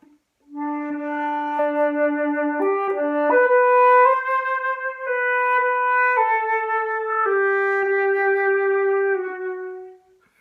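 A sustained, breathy flute melody in the low register, held notes moving stepwise, played alone at a steady moderate volume with no voices.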